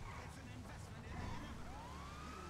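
A police siren on a Dodge Challenger SRT, styled as a 2018 NCIS LA unit in the video game GTA Online, wails upward partway through over a steady, noisy rumble, with a voice talking.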